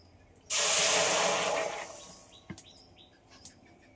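Water poured into a hot kadai bursts into a loud, close hiss of sizzle and steam that slowly fades over a couple of seconds, followed by a few light clinks and faint chirps.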